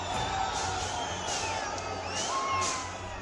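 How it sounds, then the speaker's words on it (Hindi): Protesters break through a barricade in Shimla during a demonstration against illegal mosque construction, a continuous mass of shouting and cheering voices with occasional whoops and bellows rising over the distant, steady din. "फिर कुछ मिनट की मशक्कत के बाद बैरिकेड भी तोड़ डाला।"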